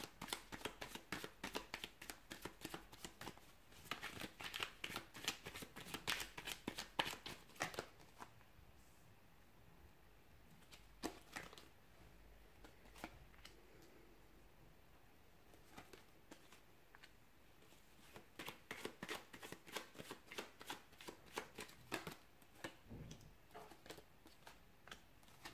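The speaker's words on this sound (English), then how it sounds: "give the cards a shuffle, and let's begin." A tarot deck is shuffled close by: soft, quick, rhythmic riffling taps in bursts with brief pauses, quiet and without talk.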